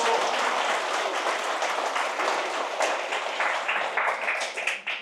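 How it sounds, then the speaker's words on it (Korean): An audience in a hall applauds the Donghwasa temple choir with steady, dense clapping that continues throughout and tapers slightly near the end. "무보수로 이렇게 음성공연 해주시겠다고 선뜻 마음 내주신 동화사 합창단께 큰 박수 부탁드리겠습니다"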